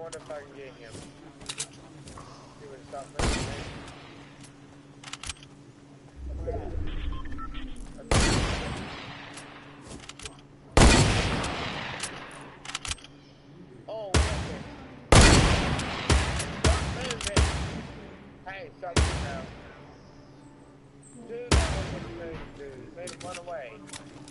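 Fortnite gunfire comes in repeated loud bursts and rapid volleys throughout, some sustained and some short, with people talking in between and over the shots.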